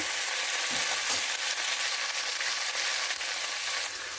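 Turmeric, chili and biryani masala powder frying in a pot for mushroom biryani, a continuous close sizzle holding steady throughout with no talking.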